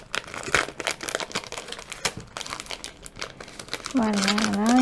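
A plastic bag of stickers crinkles and rustles in near, irregular bursts while someone speaks over it, ending with a brief steady hum.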